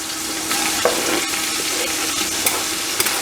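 Chopped onions frying in olive oil in a sauce pot over lowered heat give off a steady, close sizzle with occasional sharp pops and stirring clicks, and no one talks.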